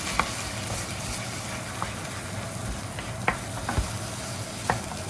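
Beaten eggs stirred in a hot frying pan with bacon for fried rice, a steady soft sizzle with a few sharp scraping clicks from the utensil against the pan.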